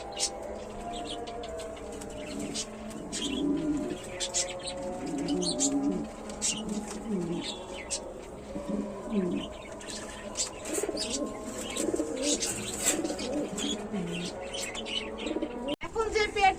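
Grizzle pigeons give soft, repeated cooing with scattered chirps, close by and intermittent, while a voice speaks over them.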